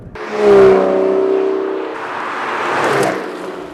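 The 5.9-litre V12 of a 2014 Aston Martin Vanquish revs up with a rising, tonal roar, swells, eases briefly, then surges again before fading, with no voices.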